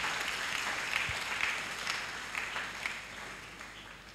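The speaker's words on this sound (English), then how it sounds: "Shall we give a clap offering unto Jesus?" A church congregation at a memorial lecture claps together in a sustained round of applause, steady and moderately loud throughout, with no voices over it.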